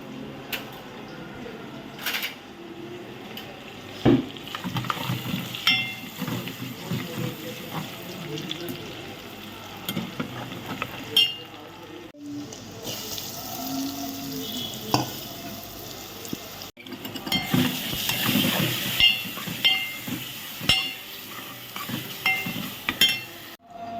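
Onions, tomatoes, chili and spices fry and get stirred in a pan for paneer sabzi, a steady sizzle broken by scraping stirs and brief splashes of running tap water, with people talking intermittently throughout.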